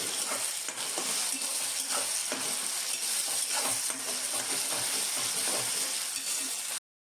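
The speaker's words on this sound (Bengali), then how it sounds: "আর একটু নাড়াচাড়া করে নেব" Ginger and garlic paste stirred in a frying pan with chopped tomato, a steady close sizzle and frying hiss with the scrape of a spatula running throughout before cutting off abruptly.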